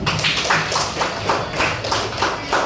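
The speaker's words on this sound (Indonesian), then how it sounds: "Ya, tepuk tangan juga." A classroom group claps hands together during a lesson with teaching aids, producing a steady, fairly close series of unison claps at an even rhythm, about two per second, with no talking over them.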